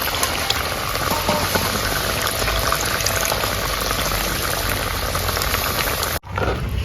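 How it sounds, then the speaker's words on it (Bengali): Katla fish curry with added water bubbling and simmering steadily in a pan, a dense continuous boil close up that stops abruptly near the end. "এই কষানোর পরে কিন্তু জল দিয়ে দিই"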